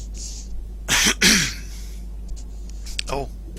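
A voice murmurs briefly, then a sharp double cough or throat-clear rises over a low steady hum of a Euro Truck Simulator 2 truck.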